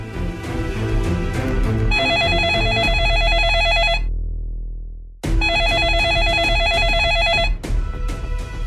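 A telephone rings on and on unanswered, its repeated bell bursts loud and close with a brief pause between rings, over a low musical background.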